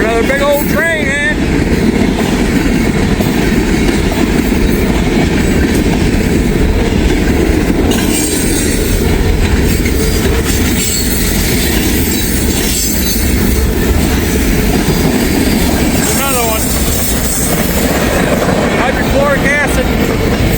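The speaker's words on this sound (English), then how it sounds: "Or another big old train, man." A big freight train rolls through fog in Kentucky, a loud continuous rumble of wagons with rhythmic clatter and occasional wheel squeals rising over it, while a voice speaks intermittently nearby.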